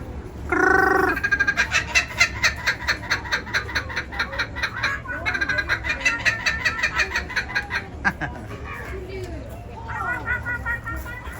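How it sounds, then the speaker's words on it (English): A laughing kookaburra in a park animal exhibit gives a loud, rapid, rhythmic cackling call that rises and falls over several seconds, close by, with some voices in the background. "encontramos el primer animal. Pues la Laughing Kookaburra."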